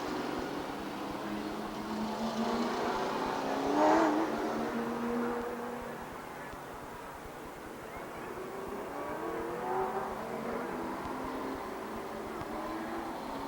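Stock cars race at Rockford Speedway in 1994, their engines a distant, blended drone that swells as the pack passes around the four-second mark and again near ten seconds, with faint commentary-like voices underneath.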